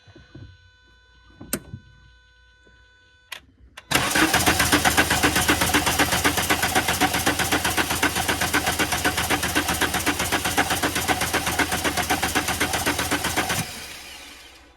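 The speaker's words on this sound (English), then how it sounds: "Turn it off and then on again, because that noise sounds like the fuel pump." An old Volkswagen Jetta that sat unused for over ten years is switched on: a brief click, then a steady loud buzzing drone with a fast, even pulse, likely the fuel pump, running about ten seconds before it cuts off.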